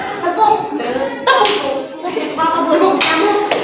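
A class of schoolchildren claps along in a tepuk hand-clapping game, with clusters of sharp, close slaps coming in rhythmic bursts over a murmur of voices.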